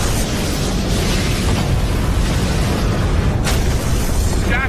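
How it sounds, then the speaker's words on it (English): Massive secondary explosions in a sci-fi space battle roar as a loud, continuous rumbling blast wash, with a brighter burst flaring near the end and no voices over it. "Massive secondary explosions."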